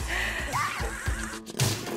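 A horse whinnies loudly and close by, a rising and falling neigh lasting about a second, followed by a snort.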